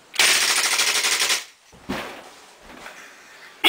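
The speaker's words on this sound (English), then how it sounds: "this is what happens when we bring an airsoft gun into the whole video" An airsoft gun fires a rapid burst of shots, loud and close, followed by a few scattered bumps and handling noises.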